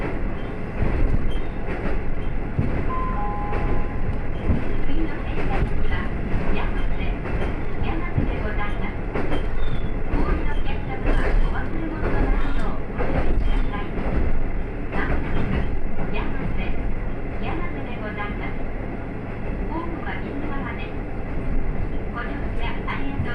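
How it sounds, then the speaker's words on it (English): The Tokotoko tourist vehicle on tires rolls along a paved former rail line beside the Nishikigawa River, giving a continuous rumbling ride noise with clattering and rattles throughout and voices at times. "The train ran along the Nishikigawa River and reached the mountains."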